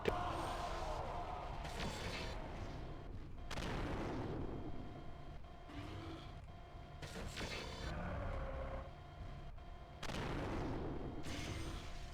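A mech in MechWarrior 4: Mercenaries is destroyed by a shot, with repeated heavy booming blasts and rumbling explosions layered over continuous battle noise and mechanical hum, loud and close.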